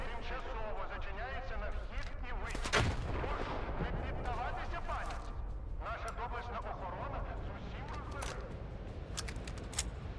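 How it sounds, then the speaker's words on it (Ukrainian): Gunfire in the video game Stalker 2, with bursts of shots and a loud boom, over continuous battle noise and a voice talking. "Чого вони по мені стріляють, що їм зробив?"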